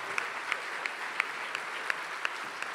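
Sustained crowd applause at a French diploma graduation ceremony, an even wash of many hands clapping with a few louder individual claps standing out at a regular pace, no voices.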